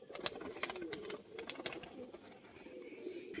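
Pigeons, including a female Rajshahi-type biscuit pigeon with white eyes, cooing softly amid scattered wing flutters and short bird calls, with brief sharp bursts over a steady low murmur throughout.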